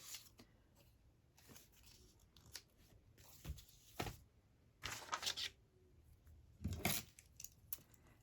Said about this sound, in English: These scissors are hopeless.